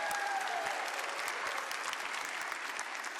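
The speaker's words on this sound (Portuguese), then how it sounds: "uma salva de palmas para Jesus" A church congregation applauds for Jesus, a steady, dense wash of clapping from a crowd at moderate distance, sustained and even throughout without a break.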